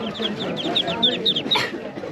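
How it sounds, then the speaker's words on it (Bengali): Young ducklings for sale at a weekly village market in Kishoreganj, Bangladesh, give a quick run of high, bright peeping chirps close by, with a busy market murmur underneath. "এটা কি হাঁসের বাচ্চা"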